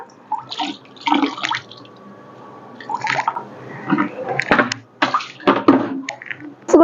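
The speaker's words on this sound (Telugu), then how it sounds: "ఇలా ఒకసారి పిండేసుకోండి." Wet saree fall fabric is wrung out by hand, with close splashes, trickles and squelching bursts of water coming in irregular spurts and no talk.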